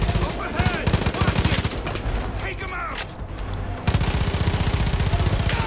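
Gunfire from a gun in Far Cry 5: rapid automatic bursts ring out loud and close, pausing briefly midway before resuming in fast rattling volleys, with a voice talking over the shooting.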